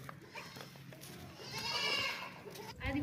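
A goat in a livestock market of sacrificial goats and kids bleats close by in drawn-out calls, with voices and other animals murmuring in the background.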